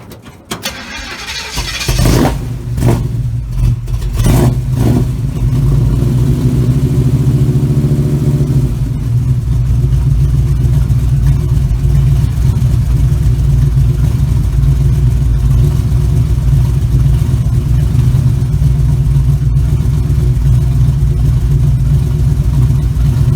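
A 1936 Chevy coupe's engine cranks and catches after a couple of loud bursts, then settles into a steady, close, loud running drone that holds for the rest of the stretch, with no talk over it.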